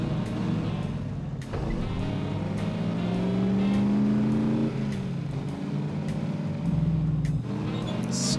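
A car engine drives steadily in the video game The Saboteur, set in Nazi-occupied surroundings, with a continuous rumbling drone and rising and falling revs, broken by a few sharp clicks, no talking.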